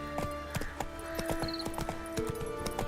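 Roach the horse's hooves clopping in The Witcher 3: Wild Hunt, a steady, fairly close rhythm of hoof strikes on ground with a few faint tonal game sounds in the background.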